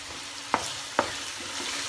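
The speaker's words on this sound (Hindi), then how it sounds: "इस मसाले को हम थोड़ा सा भूनेंगे, 2 मिनट के लिए इसको भूनेंगे।" Masala sizzles softly in a pan as a spoon stirs it, two sharp scrapes standing out against the low, steady frying.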